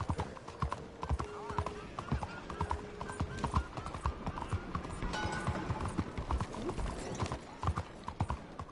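Rhythmic clip-clop of horse hooves trotting steadily, with occasional voices talking over the hoofbeats.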